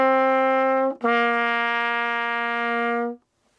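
A solo trumpet plays two clean sustained notes in a quiet room, a short note then a longer held one, ending in silence.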